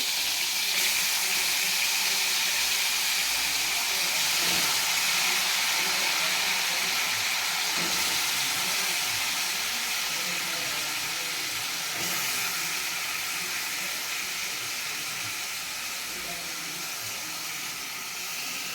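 Steady broadband sizzling of chicken frying in hot oil, loud and close, continuing without pause with no talking over it.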